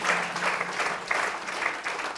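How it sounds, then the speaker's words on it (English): Audience applause for a speaker at a breakfast briefing on storytelling, steady clapping sustained across the whole stretch at moderate volume. "Big round of applause for Julia."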